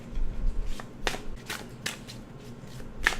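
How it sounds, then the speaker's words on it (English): Tarot cards being shuffled by hand close up, with a few quick riffling bursts separated by short pauses. "Keep shuffling."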